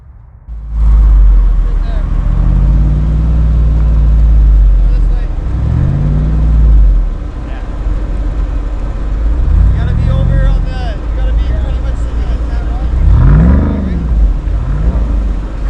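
A Jeep driving off-road over rocky terrain at Ruby Falls, its engine droning steadily and rising in repeated revving surges as it crawls, close and loud, with people talking over it at times.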